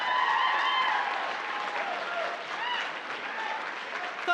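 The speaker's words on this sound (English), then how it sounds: "let's keep that applause going for all of our talented contestants tonight" A talent show audience in an opera house claps steadily while the host speaks over the applause.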